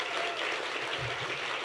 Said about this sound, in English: Big round of applause for all of our finalists